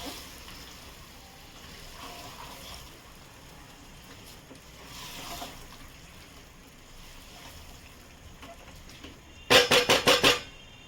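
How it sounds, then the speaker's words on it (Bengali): Chicken fries in a pan over a high gas flame, giving a soft, steady sizzling hiss that runs throughout before a quick burst of loud metallic clatters near the end. "ঢেলে দিয়ে গ্যাসটা জোরে দিয়েছি, এটাকে ভাজা ভাজা করে নেব।"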